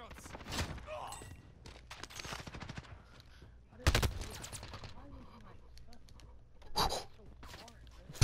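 PPSh submachine gun firing in a video game, with rapid bursts of automatic fire and several sharp loud blasts, while players talk and breathe over the shooting.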